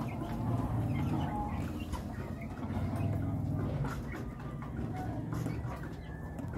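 Brahma chickens, a birchen and buff Brahma cross, clucking softly in a farm setting, with low scattered calls over faint background noise.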